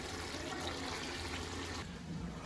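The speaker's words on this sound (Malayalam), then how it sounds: "വെള്ളം തിളക്കുണ്ട്." Water boiling in a pot, a faint, steady bubbling and simmering wash that ends in a brief louder knock.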